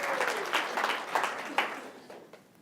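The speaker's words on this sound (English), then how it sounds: "a big round of applause for the tech folks here who got this up and running so fast" Conference audience applauding a keynote session, a dense burst of clapping with a few louder peaks that gradually thins and fades out toward the end.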